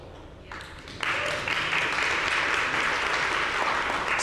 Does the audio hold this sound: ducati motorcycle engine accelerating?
no